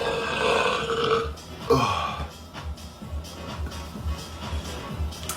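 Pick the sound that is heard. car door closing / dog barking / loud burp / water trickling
loud burp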